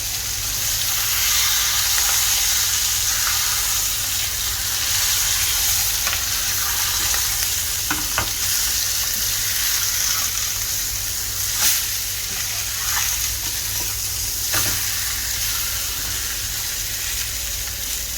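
Pomfret fish fries in a pan with curry leaves scattered on top, a loud, steady sizzle running throughout with a few brief crackles and pops rising from the hiss.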